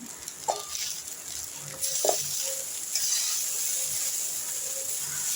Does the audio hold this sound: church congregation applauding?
no